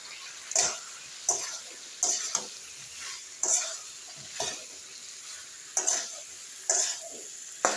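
Spices fry in a pan under a low, constant sizzle, broken by about nine sharp scraping stirs at irregular intervals, close and fairly loud against the quieter hiss.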